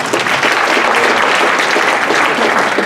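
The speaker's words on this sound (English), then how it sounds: "Give them a round of applause." An audience at a college admissions evening gives a round of applause, a close, dense burst of clapping that stays even and loud throughout.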